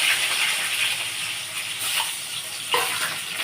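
Mango pieces drop into a pot of simmering dal, giving a steady sizzle and bubbling hiss with a couple of brief splashy stirs and no talk.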